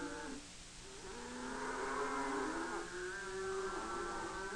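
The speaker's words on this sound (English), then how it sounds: "The cattle graze and rest during the night, but at daybreak, the herd is on the trail once more." A cattle herd on a trail drive in Paraguay moos in long, low, drawn-out calls, overlapping and fairly close, with steady background noise and no talk.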